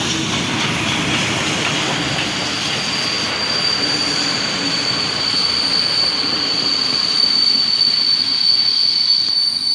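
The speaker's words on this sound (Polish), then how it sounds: "parowóz z pociągiem retro" A steam locomotive hauls a retro heritage train through Poznań Dębiec station, a steady loud rolling rumble of wagons with a thin, sustained wheel squeal rising midway and building slightly toward the end, no voices.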